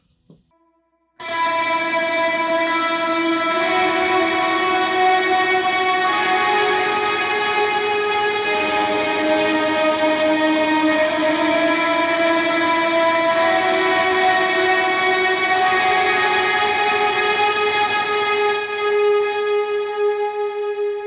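A lead electric guitar line soaked in effects, with distortion, echo and reverb, holds sustained, shifting notes loud and alone for around twenty seconds after a brief click at the start.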